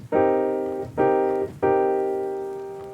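Three loud, bright piano chords struck hard one after another on a MIDI keyboard, each ringing out and decaying before the next.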